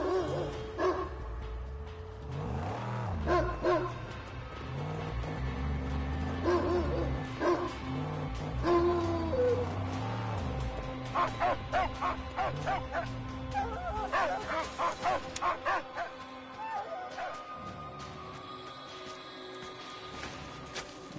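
Dog barking, yipping and whimpering in the Mad Max video game, a repeated run of close, fairly loud barks and whines over a steady game soundtrack.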